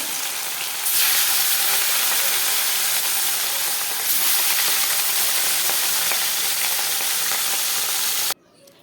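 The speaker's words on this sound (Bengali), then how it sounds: "তেলটা গরম করে আমি মাছগুলো দিয়ে দিচ্ছি।" Rohu fish pieces rubbed with salt and turmeric sizzle loudly in hot oil, a steady dense hiss and crackle that holds for about eight seconds before cutting off abruptly.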